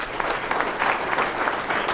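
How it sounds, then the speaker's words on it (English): A football team gathered in a meeting room applauds together, a steady burst of many hands clapping at close range, sustained and even for the whole stretch. "So give yourself a round of applause again."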